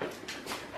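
A dog whimpers in a short, close, whiny sound that rises and falls over a moment against a noisy background.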